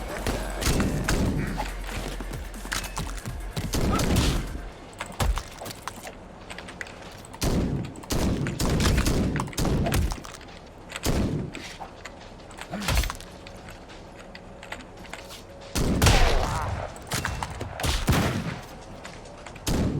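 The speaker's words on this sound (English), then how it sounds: "unfortunately I keep shooting the guys who don't have guns" Gunfire in the MADNESS: Project Nexus video game, arena mode: repeated loud shots and bursts fire in irregular clusters, with sharp impacts and thuds between short gaps, and occasional talk underneath.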